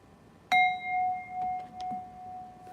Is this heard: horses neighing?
no